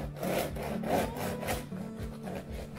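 Knife sawing through a crusty Old English bloomer loaf, a close, crisp rasping crunch in repeated back-and-forth strokes, fairly quiet with no talking.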